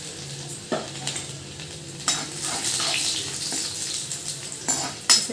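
Garlic, bay leaf and dried red chili frying in a hot pan, a steady close sizzle broken by scraping stirs and clinks of a spoon against the metal, with no talk.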